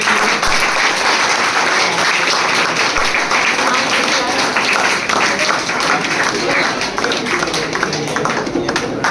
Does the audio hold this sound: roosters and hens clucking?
no